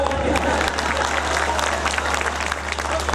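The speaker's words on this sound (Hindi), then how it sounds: "एक बार ताली बजाओ" Audience at a Hindi comedy show in Ujjain breaks into loud, continuous applause, many hands clapping at once with a crowd murmur and a low hum underneath.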